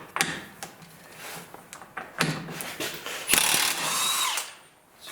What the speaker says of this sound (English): see if the wrench just pulls that nut out